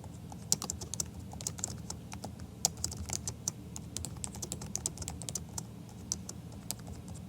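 Rapid, irregular clicking of keys on a computer keyboard during steady typing, close and continuous with no voices.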